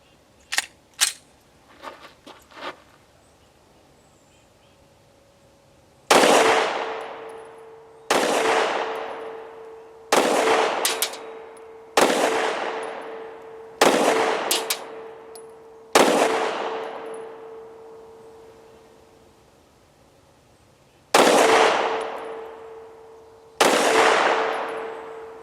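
Rock Island Derya DY9 shotgun shooting rounds at a range: a few faint clicks at first, then eight loud booming shots at uneven intervals of roughly two to three seconds, each ringing out and decaying, with nobody speaking.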